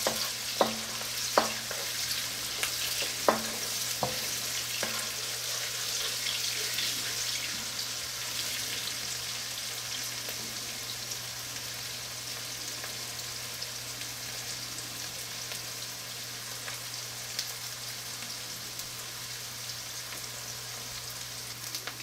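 Onions fry over high heat for fried rice, giving a continuous hissing sizzle with a few sharp stirring clicks early on, then steady frying alone.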